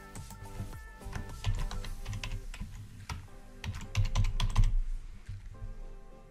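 Rapid clicking on a computer keyboard as a name is entered, a close run of taps in quick bursts with a brief denser flurry midway, no talking.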